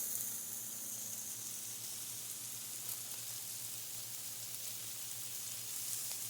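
Vegan fajita filling sizzles steadily in a pan, a soft continuous crackling hiss with a low hum underneath, no talking.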